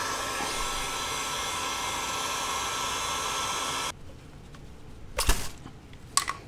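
A heat gun or blow dryer roars with a steady hiss while warming BMW hose fittings, then cuts off abruptly, leaving quiet room tone broken by a couple of sharp handling knocks.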